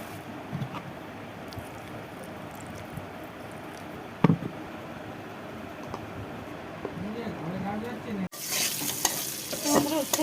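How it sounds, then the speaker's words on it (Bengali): Sliced bitter gourd and potato fry in a pan with cumin and coriander powder, a continuous crackling sizzle with occasional stirring scrapes, then a brief louder burst of sizzle near the end. "তো বন্ধুরা, উচ্ছে আলুটা ভাজা হয়ে গেছে,"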